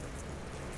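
Rain falling outdoors as a dense, even hiss of steady patter, continuous and moderately loud throughout with no talking.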